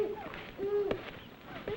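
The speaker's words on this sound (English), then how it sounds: "That's an owl." An owl gives a few short, soft hoots in an indoor film scene, with a faint background hiss.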